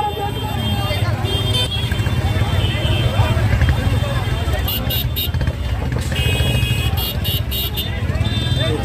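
Motorcycles in a large bike rally for a Congress candidate's campaign, a constant engine drone with occasional horn toots, under crowd noise and someone talking.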